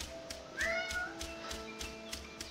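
A cat gives a couple of short, faint meows over a quiet background of steady rhythmic tapping.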